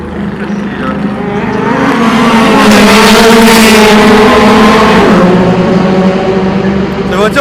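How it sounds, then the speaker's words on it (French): Race car engines roar past on the Le Mans circuit during 24 Hours qualifying, a sustained loud high-revving whine that swells to a peak mid-clip and fades, with a commentator talking over it. "il y a une Porsche qui vient de passer"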